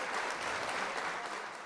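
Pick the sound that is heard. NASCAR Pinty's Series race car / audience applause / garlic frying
audience applause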